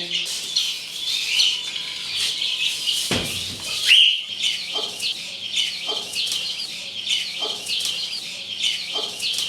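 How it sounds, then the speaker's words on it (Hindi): A female pigeon in hand, with bird calls and clucking chirps close by, repeated in short bursts over a busy outdoor background, with a brief loud rustle partway through. "ये कबूतरी है।"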